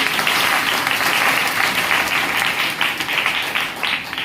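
A church congregation claps in sustained, even applause at a worship service, dense and fairly loud with no voices standing out.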